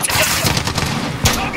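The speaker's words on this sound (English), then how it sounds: "So the FAL is a slower firing assault rifle" Rapid bursts of FAL assault rifle fire in Call of Duty Modern Warfare hardcore team deathmatch, a steady stream of loud shots with a sharper crack near the end.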